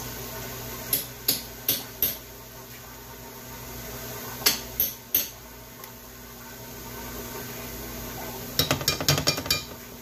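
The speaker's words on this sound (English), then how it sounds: "we're going to go ahead and put in our tomato paste" Metal spoon clinks repeatedly against a skillet while tomato paste is scooped in for Puerto Rican skillet corned beef, sharp taps in short bursts of three or four, then a rapid cluster of clatters near the end, with no talking.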